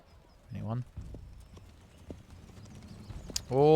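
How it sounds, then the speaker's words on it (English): Horse hooves clip-clop along a road in the medieval strategy game Manor Lords, steady and fairly close, with a whinny near the end and quiet talk over the walking. "Where's my horse? Is he coming down the road yet?"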